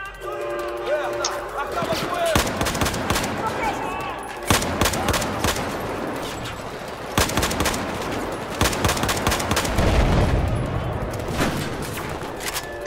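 Gunfire in the video game Battlefield 4 on a Singapore mission, with sharp bursts of automatic shots and single cracks recurring irregularly over a steady background of game ambience.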